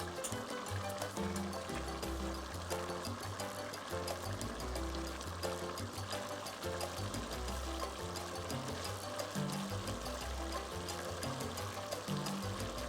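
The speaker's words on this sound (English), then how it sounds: "So the soup is very much boiling." Nigerian egusi soup with bitter leaf bubbling hard in a covered pot, a steady close, churning liquid boil with dense low bubbling that runs without pause and no talk.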